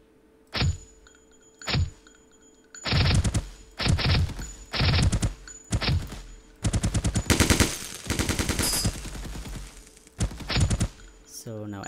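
Gunfire from an Unreal Engine third-person shooter game, single loud shots and then rapid automatic bursts with impact thuds, close and punchy, with pauses between bursts.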